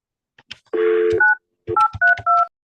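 A touch-tone telephone being dialed for a call back after voicemail: a short burst of a held tone, then several distinct dual-tone beeps in quick succession, close and clear, with no talk.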